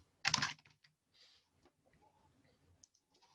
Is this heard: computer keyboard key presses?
yes